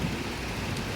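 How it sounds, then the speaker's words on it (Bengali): Steady rain pours outside during a summer storm, a dense, even hiss heard from indoors, moderately loud and unbroken throughout, with no voices over it. "বাইরে বৃষ্টি পড়ছে"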